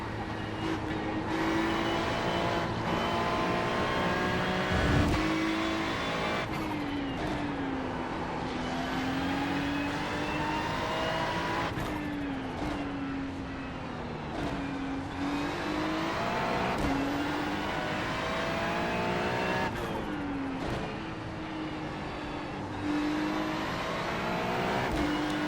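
A Ferrari 296 GT3 race car in the iRacing simulator screams around Zandvoort, its engine revving high through repeated upshifts and downshifts under steady throttle, loud and continuous with no talk over it.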